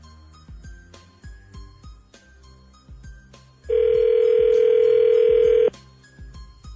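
An outgoing telephone call plays over background music, with a steady electronic tone sounding loud for about two seconds before cutting off. No one speaks.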